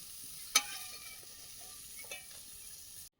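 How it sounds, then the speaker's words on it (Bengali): Bitter gourd sizzles steadily in hot oil, with one sharp clink of a utensil early on and a couple of softer stirring scrapes before the sound cuts out. "গরম করেছি উচ্ছেটা ভেজে নিয়েছি তুলে নেব"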